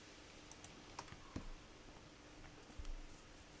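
Typing on a computer keyboard at a game developer's desk, with a few distinct key clicks and soft taps spread across a few seconds, close and fairly quiet, with no talking.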